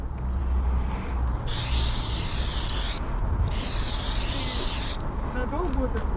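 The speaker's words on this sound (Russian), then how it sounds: "Надолго вот этот баллончик хватает?" Spray paint can hissing out graffiti on a street wall, two long bursts of bright hiss of about a second and a half and two seconds, close by, with people talking under and between them.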